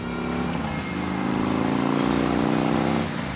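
Harley-Davidson Road King motorcycle exhaust rumbling steadily while riding, a deep continuous engine drone with rising and falling revs, loud and close, easing off near the end.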